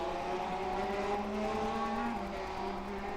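Race car engines roar with steady harmonic whine in the iRacing sim, GT3 cars at Virginia International Raceway, engine pitch shifting through the last turns with faint tire scrub, continuous and loud without talk.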